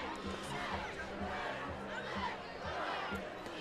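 Crowd noise at a high school varsity football game at Legend: a broad, continuous roar of spectators and cheerleaders, moderately distant and fairly subdued, with mingled voices.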